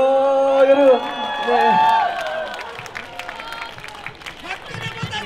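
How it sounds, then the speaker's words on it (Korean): A crowd at an outdoor political rally in Andong claps and cheers amid lively chanting voices, the noise swelling in bursts and then settling into a scattered patter of applause. "큰 박수 부탁드리겠습니다"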